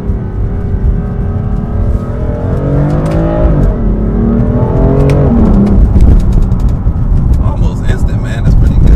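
A car with a fast-shifting automatic transmission accelerates hard from first gear, its engine note rising, dropping at each upshift and climbing again, loud and close from inside the cabin, with someone talking briefly over it.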